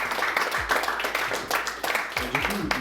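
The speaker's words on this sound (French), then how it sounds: "vous pouvez vous applaudir" Audience applause at a French speedsoft championship gathering, broadband clapping running steadily through the whole stretch with a few low thumps and some voices mixed in underneath.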